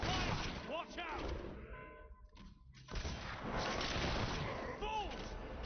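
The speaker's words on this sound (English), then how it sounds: "We're taking fire!" Gunfire in a video game battle rattles out as dense, loud, continuous volleys, briefly easing in the middle before resuming at full intensity.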